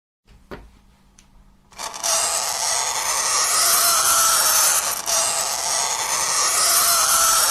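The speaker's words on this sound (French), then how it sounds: "Dans le son de la craie sur le tableau, on remarque un son strident, aigu" Chalk scrapes steadily across a blackboard, a harsh, gritty rasp that begins after a couple of faint knocks and continues loudly without a break.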